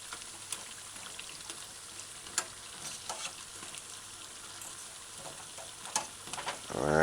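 Sardine fritters sizzle in a frying pan with oil crackling steadily, a soft hiss dotted with small pops and occasional sharper spits close up, no talking.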